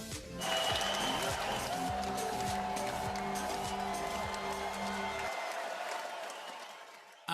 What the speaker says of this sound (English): And that crowd is just getting louder